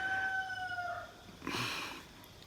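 A rooster named Roger crows once, close and clear, with a long drawn-out call that fades before a shorter squawk follows.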